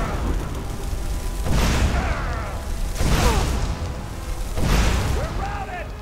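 Fire spell explosions in Skyrim: Dawnguard, three heavy booming blasts spaced about one and a half seconds apart over a loud rumbling background, with someone talking between them.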